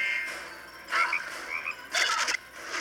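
Small frogs in the Cartoon Wars 3 video game croak in two short, bright bursts about a second apart, moderately loud over quiet game ambience.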